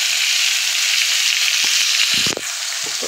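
Onions frying in a pan for keema samosa filling give a steady, loud hiss of sizzling oil, with a few brief stirring knocks near the end and no voices.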